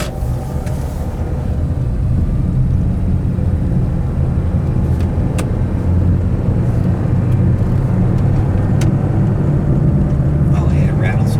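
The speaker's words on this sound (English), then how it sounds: "Oh yeah, it rattles away. It's rattling." A 2009 Toyota Corolla engine with four low-compression cylinders runs with a steady, loud low rumble and a persistent rattly vibration that continues without a break.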